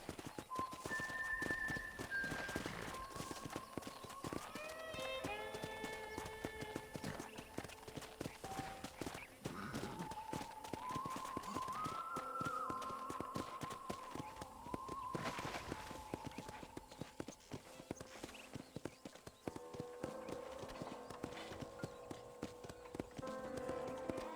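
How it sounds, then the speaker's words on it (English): Horse hooves clip-clop at a steady galloping rhythm in the Red Dead Redemption video game, riding toward a ranch, running continuously under music and occasional game sounds. "let's see if you can still ride a horse"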